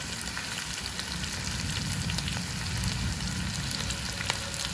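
Chicken fries in a pan with masala and curry leaves, a loud, steady close-up sizzle with faint stirring clicks and no speech.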